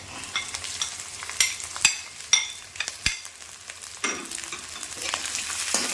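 Garlic and green chillies fry in sesame oil alongside ginger while being stirred, a soft sizzle under repeated sharp scrapes and clinks of the spoon against the pan, with no talking.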